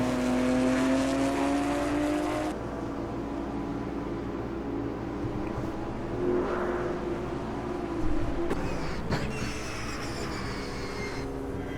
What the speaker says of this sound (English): Sounds like a rocket ship because there's no exhaust noise, just the transmission.